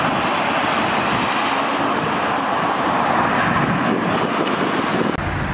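A Porsche 911 Targa phase 1 on turbo wheels passes on a street, its engine a steady broadband roar blending with surrounding traffic, loud and close throughout, cutting off abruptly at the end.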